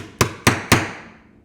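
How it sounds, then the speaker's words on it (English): Three sharp metallic hammer taps on a hole punch in quick, even succession, each ringing briefly before fading into quiet. "I actually need 4 taps of the hammer to get it right through"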